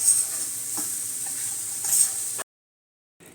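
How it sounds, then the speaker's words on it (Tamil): A spoon stirs and mixes the sweet filling for somas in a pan, giving a steady soft scraping and sizzling texture for a couple of seconds before cutting to silence. "இப்போ நான் எல்லாத்தையும் நல்லா மிக்ஸ் பண்ணிடுறேன்."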